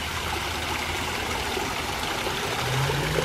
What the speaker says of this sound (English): I hear a water feature.